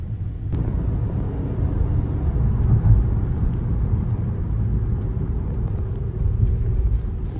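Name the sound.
GAC GS3 Emzoom car driving and accelerating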